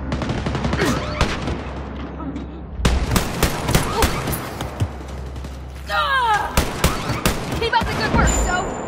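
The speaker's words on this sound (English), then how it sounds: "I'm shooting at the Nazi commander." Gunfire in Wolfenstein: Youngblood, loud sharp shots in rapid bursts and single cracks over a low hum, with a whooshing sweep midway and talk in between.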